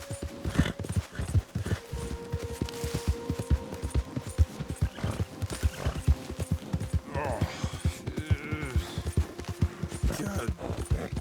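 Horse hooves clip-clopping in Red Dead Redemption 2, a steady run of close, sharp hoof strikes with a brief whinny partway through, mixed under talking and game sounds.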